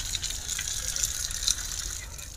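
Water pours and gushes steadily at a temple for washing feet, a continuous splashing stream close by with no talking.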